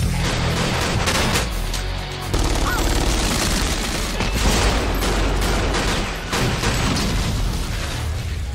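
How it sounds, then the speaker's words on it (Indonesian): Heavy gunfire from a gunfight between agents and a gang in an action film, with dense bursts of shots and booming impacts that run loud and continuous throughout, layered over the film's soundtrack. "terjadilah baku tembak antara pasukan Agen William dengan Nicholas dan anak buahnya yang ada di sana."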